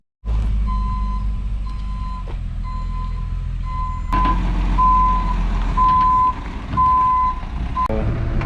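A truck backs up to dump a load of stone for a homestead driveway, its reversing alarm repeating steady, evenly spaced beeps over a loud, continuous diesel rumble that grows rougher partway through.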